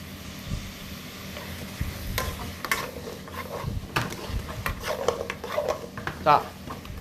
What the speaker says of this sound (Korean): 소스를 이렇게 잘 골고루 이렇게 해가지고 볶아줘요